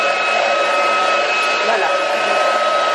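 Ultenic FS1 cordless vacuum cleaner running on high mode, a loud, steady whining motor roar with a constant tonal hum, close and continuous throughout.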